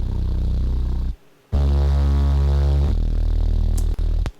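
Distorted synth bass from the Iris 2 plugin, processed with saturation and sidechain compression in a remix of a song: loud buzzing sustained low notes, briefly cutting out near the start, with sharp clicks toward the end.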